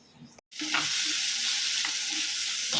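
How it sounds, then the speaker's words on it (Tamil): Onion, green chilli and curry leaves drop into hot oil already holding a cinnamon stick for a chicken fry, and a brief pause gives way to a loud, steady, close sizzle that carries on without letup. "இப்போ வெங்காயம், பச்சை மிளகா, கருவேப்பிலை சேர்த்துக்கலாம்."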